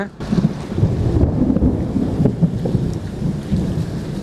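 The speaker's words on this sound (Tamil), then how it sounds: "ஐயோ, பயங்கரமாக இடி இடிக்க போகுது" Heavy rain pours down in Kilinochchi, Sri Lanka, under a loud, deep rolling rumble of thunder that swells and lingers across the whole moment.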